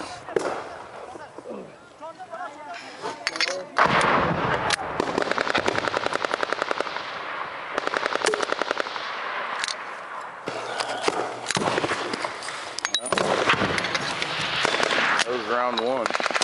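A firefight in Afghanistan heard from an M240 machine-gun nest: dense, rapid bursts of close automatic gunfire crack in long stretches, with brief gaps between them, while voices shout nearby.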